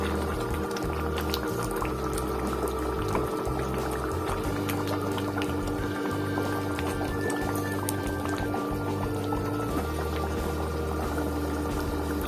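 A pot of prawn masala curry simmering on the stove, a steady bubbling and soft liquid churning that runs close and even throughout, with faint clinks and a low background hum.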